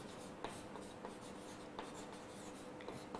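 Marker or chalk scratches across a classroom board during a crop production lesson, with soft, steady strokes and a few sharper taps under a constant background hiss and no talking.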